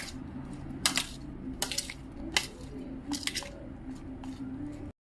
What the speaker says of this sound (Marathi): यात थोडंसं लाल तिखट आणि अगदी थोडंसं नमक, हे मिक्स करून घेऊया